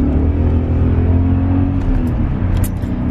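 A car accelerates onto a highway entrance ramp, its engine droning steadily and loudly from inside the cabin with a low rumble and rising whir throughout.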